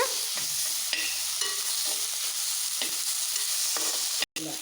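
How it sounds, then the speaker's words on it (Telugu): Ginger garlic paste sizzles steadily in a hot pan while a spoon stirs it, scraping in short irregular strokes over a constant frying hiss, with one brief dropout near the end. "అల్లం వెల్లుల్లి పేస్ట్ పచ్చివాసన వెళ్ళేదాకా కలుపుకోవాలన్నమాట"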